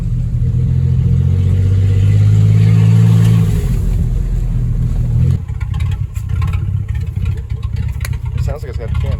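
A 2004 Ford Explorer engine, said to have an aftermarket cam, drones loudly while driving on a road, a steady low rumble that swells under acceleration for a few seconds, then settles into rougher, noisier cruising.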